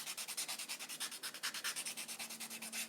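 A buffer scrubs back and forth across acrylic nails in a steady, rapid rhythm of rasping strokes, close and continuous with no talking.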